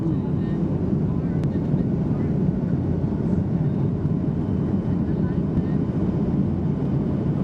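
Passenger airplane rolling on the runway just after touchdown at Chicago O'Hare airport, arriving from Seattle: a steady, loud low roar of engines and wheel rumble that holds throughout, with a person talking over it.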